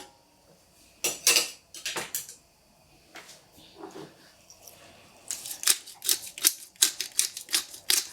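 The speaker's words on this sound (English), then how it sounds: "Add a little bit of black pepper" A pepper grinder cranking black pepper over tomato soup, producing rapid dry ratcheting clicks in two bursts, a short one early and a longer run near the end.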